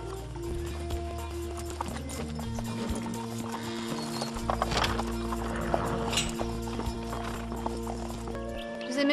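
Horse hooves clip-clopping on the ground at a steady walking rhythm with a brief neigh, fairly close under a low constant background rumble.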